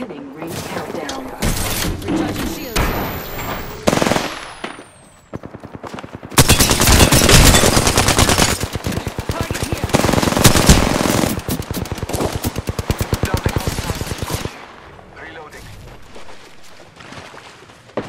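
Gunfire in the Apex Legends video game: loud rapid bursts of automatic weapon fire and single shots, near and dense in long volleys, with mechanical clicks and short pauses between.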